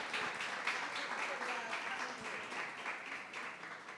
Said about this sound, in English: Clap for Anna, man